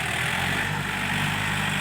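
A Yanmar 51 tractor engine drones continuously and loudly up close, a dense steady mechanical roar with a low throbbing hum, heard during earthmoving work with clay soil.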